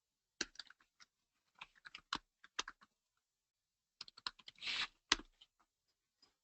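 Quick bursts of computer keyboard typing, faint and close, in scattered clusters of clicks with short pauses between them and one denser flurry near the end.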